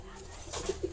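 Madras pigeons coo in a loft, several soft, low coos close by over a gentle background of birds.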